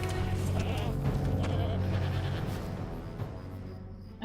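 Goats bleat in the online game Lord of the Rings Online, with wavering bleats layered over a dense ambient game soundscape that fades slightly toward the end.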